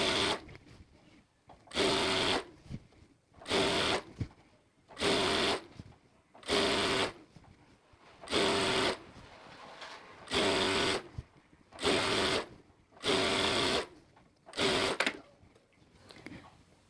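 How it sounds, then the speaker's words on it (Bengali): A sewing machine stitches a folded fabric hem that will hold elastic, running in about ten even bursts with short pauses between them, close and clear, no voices. "এখন আমি বরাবর সেলাই দিয়ে নিব।"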